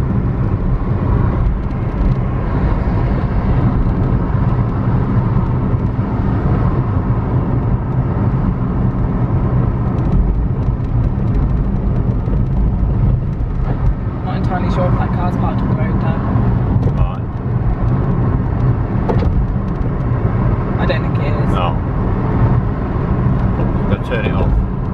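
Steady car interior drone while driving, a continuous low engine and road rumble filling the whole stretch, with a voice speaking over it throughout.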